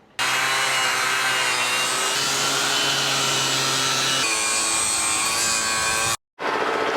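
A power sander with 40 grit abrades the bare steel hull of a boat below the waterline. The harsh, continuous grinding drone is loud and near and shifts pitch partway through. It cuts out briefly near the end, then resumes.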